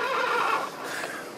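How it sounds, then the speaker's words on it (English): A Mister Ed talking horse toy gives a loud, close recorded neigh, a single whinny lasting just over a second, heard alone. "The talking horse."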